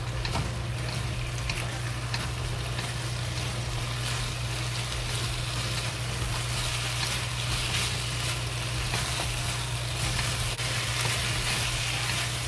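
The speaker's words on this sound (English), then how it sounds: "So add scallion to it and then fry it." Scallions fry over a high flame, giving a steady, close sizzle that stays at an even level the whole time, with no voices.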